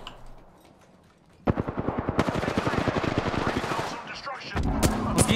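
Rapid automatic gunfire in Apex Legends, a quiet opening that breaks into a long, loud burst of evenly spaced close shots, then another burst near the end, with a voice heard faintly.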